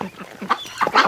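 Honking, goose-like calls from a Muscovy duck recovering from botulism, several short bursts close by with the loudest call near the end.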